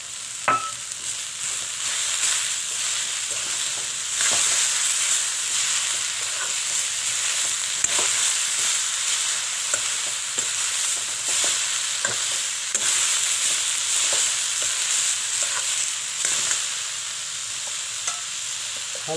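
Soaked moong and masoor lentils fry in a pan with a steady bright sizzle, stirred repeatedly so that scraping strokes recur in an irregular rhythm, close and fairly loud with no talking.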